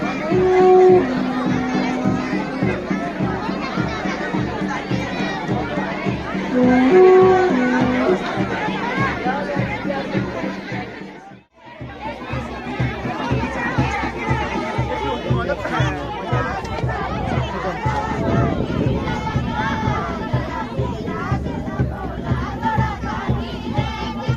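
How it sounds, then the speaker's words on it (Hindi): A large, dense crowd at the Nanda Ashtami temple fair for Maa Chandika in Meerut fills the air with continuous loud chatter and shouting, with a brief dip midway and music or chanting mixed in at times. "देखिए काफ़ी ज़्यादा तादाद में भीड़ आज ग्राम सभा मेरठ में माँ चंडिका के दरबार में"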